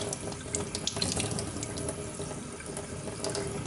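Kitchen tap running steadily into a sink while a blown, hollowed-out eggshell is rinsed clean, a continuous close splashing hiss with small irregular spatters and no talk.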